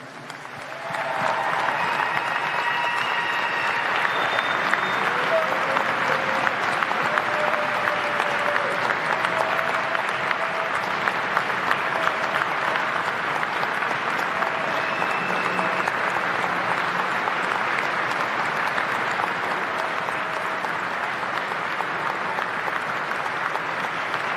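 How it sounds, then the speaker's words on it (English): Sustained audience applause fills a ball hall for over twenty seconds, a dense, steady clapping from a large crowd with no talk over it. "let's give him a round of applause"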